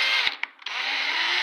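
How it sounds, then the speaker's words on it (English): A power drill bores straight down through a steel landing-gear tube held in a drill jig. It makes a steady, loud, high-pitched grinding whine with a few brief dips and catches as the bit cuts. "put my pipe through to the edge, and measured the distance back I need it. That's where my drill jig is set, and then just drilled straight down through"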